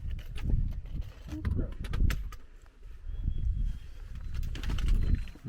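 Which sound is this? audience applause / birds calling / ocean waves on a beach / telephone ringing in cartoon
birds calling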